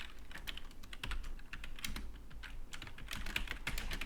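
Fingers type on a computer keyboard in steady, rapid bursts of close clicks and taps, continuing through the whole stretch with no voices.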